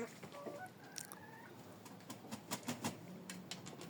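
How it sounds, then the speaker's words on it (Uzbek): Hens resting in a poultry yard make soft clucks and a few short calls at a distance, along with faint scattered taps and patter. The sound is quiet and fairly steady throughout. "Mana tovuqlar dam olishyapti hozir"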